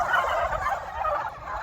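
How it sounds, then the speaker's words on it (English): Turkeys on a pasture farm gobble loudly and close by, a dense, continuous burst of rapid warbling calls that fills the whole short stretch, with no voices over it. "the turkeys are reacting to the geese"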